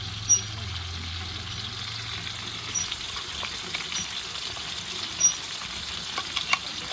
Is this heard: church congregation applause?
no